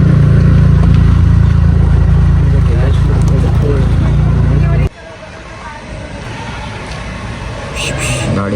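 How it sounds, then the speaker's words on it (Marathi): A vehicle engine idles with a steady low rumble in a busy market street, loud for the first half before cutting out abruptly, leaving quieter street noise with voices in the background. "गाडी चालू आहे गाईस"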